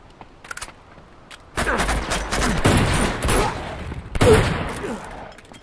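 Rapid bursts of gunfire from a shotgun and pistol fill a firefight in the video game Uncharted 2, loud and dense with overlapping shots, with a brief voice partway through.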